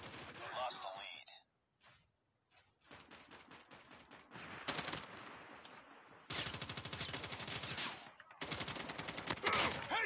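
Gunfire in the video game Call of Duty on the Nuketown map: bursts of rapid automatic fire, some long and sustained, separated by brief pauses, with a voice heard early on.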